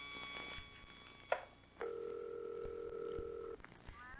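A telephone rings on an outgoing call from a children's detective show: a short electronic chirp, then a sustained steady ringing tone lasting under two seconds, fairly faint and clean.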